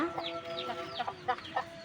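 Village chickens cluck nearby in short, repeated bursts over a soft background hum.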